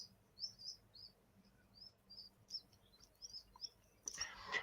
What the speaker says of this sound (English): Yeah, see, even Grace can hear the birds chirping.